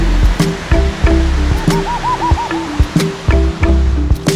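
A waterfall beside a chalet in Kelantan gives a loud, steady rush of falling water that fills the scene, with a few faint knocks over the constant roar.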